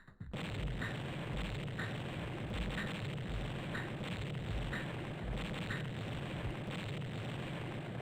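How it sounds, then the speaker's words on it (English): Crunchy explosion effects from an Ace Combat 2 mission briefing screen, a row of short bursts recurring at roughly even intervals over a steady low rumble, with no talk. "I love the really crunchy explosion sound effects every time you take out a target in these briefing screens"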